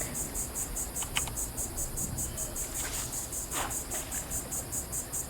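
Cicadas drone through a summer scene in Fallout 76, a steady high pulsing buzz running throughout, with a few faint clicks and soft knocks underneath.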